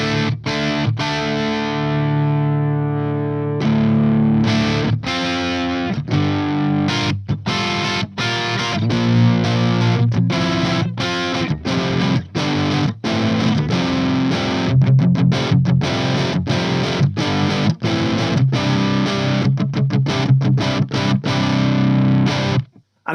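Crunchy distorted electric guitar through a Hughes & Kettner TriAmp Mark 3 amplifier, playing loud chugging riffs with frequent abrupt palm-muted stops. It carries on alone for about twenty seconds with no talking.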